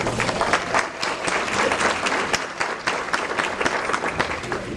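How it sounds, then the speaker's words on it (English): An audience at a Greenville Chamber of Commerce nonprofit spotlight luncheon breaks into sustained, dense applause, many hands clapping steadily and close by throughout. "Let's give them a big round of applause."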